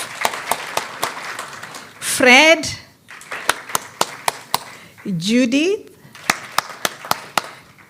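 At a national early childhood development stakeholders' conference, a few scattered claps ring out at an irregular pace, sharp and fairly close, between moments where someone speaks aloud to call names.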